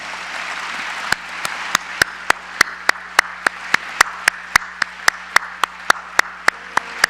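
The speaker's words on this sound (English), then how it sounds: "let's make a big applause to ourselves for the solidarity and hard work we have demonstrated in the last 3 days." Applause at the closing ceremony of the World Education Forum in Incheon: a low crowd murmur with scattered clapping, joined by sharp, evenly spaced loud claps near the microphone that beat rhythmically to the end.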